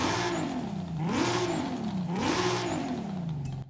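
Game-modelled 2JZ engine in a Toyota Camry stock car from Forza Horizon 5 revs up and down twice in smooth rising-and-falling sweeps, loud and close, with no talk over it.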